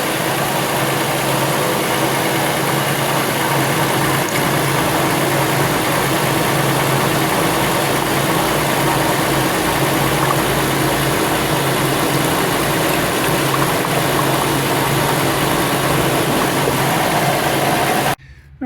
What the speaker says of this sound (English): I've been running it for about 5 minutes, revving the engine